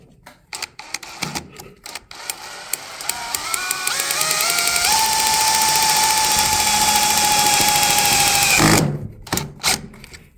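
A cordless screw gun drives a screw while a trailer is being wired, starting with a few short clicks and bursts, then running in one sustained whine that climbs in pitch before cutting off.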